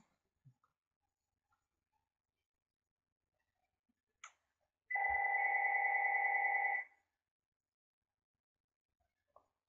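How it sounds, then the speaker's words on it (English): A telephone rings once indoors, a sustained two-tone electronic ring lasting about two seconds, loud against an otherwise quiet room with a few faint clicks before and after. "Once again, I'm sorry for the phone."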